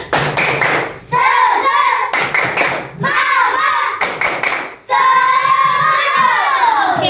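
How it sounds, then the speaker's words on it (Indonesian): Group of women doing a rhythmic spirit clap, bursts of unison claps in a set pattern separated by chanted voices, loud and close. "Tepuk semangat."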